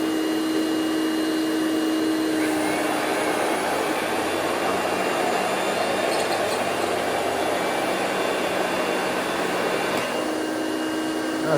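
A Hoover Celebrity QS canister vacuum cleaner runs on its low setting with a steady, loud whooshing motor drone, close by and continuous from start to finish, with no talking.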